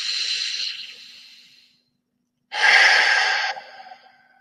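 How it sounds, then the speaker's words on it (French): Two deep breaths during a relaxation breathing exercise, each a loud airy rush lasting about a second and a half, separated by a brief silence, close to the microphone. "Encore une fois, j'inspire profondément."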